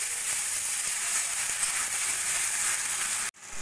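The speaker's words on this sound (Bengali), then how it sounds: "দিয়ে মশলাটা ভালো করে আমি কষিয়ে নেব।" Spices with salt, turmeric, cumin powder and ginger garlic paste sauté in a pan for a fish curry, making a loud, even, continuous hiss that stops abruptly near the end, with no voices.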